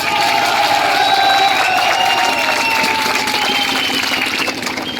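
Crowd applause at a Zilla PESA Gram Sabha coordination committee meeting with the Sub-Collector of Panposh, a loud continuous wash of clapping and cheering with a faint tonal drone running through it.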